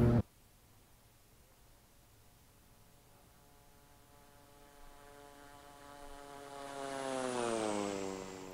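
An airliner in the Infinite Flight simulator climbs away after takeoff, its engine drone starting as a steady low hum and swelling louder toward the end as rising, sweeping whine tones spread upward.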